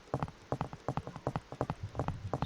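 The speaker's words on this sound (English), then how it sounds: "it will actually play the footstep sounds as well" Footsteps of a running character in a Unity third-person mobile shooter, a quick steady run of soft thuds, about four per second, heard alone without talk.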